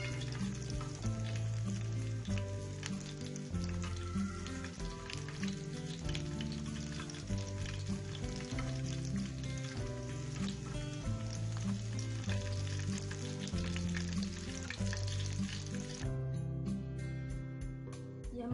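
Chicken tikki frying in a pan, a steady loud sizzle and crackle of hot oil close up, continuous throughout with no talking.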